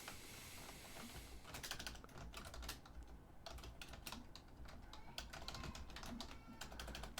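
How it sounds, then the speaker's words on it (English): Rapid, irregular clicking of a computer keyboard being typed on, faint and close, with short pauses between runs of keystrokes. "I'm typing to you because it's nice to see you."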